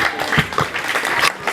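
A graduation audience at a secondary school prize-giving claps for a top student, scattered uneven hand claps with distinct individual slaps over a brief stretch.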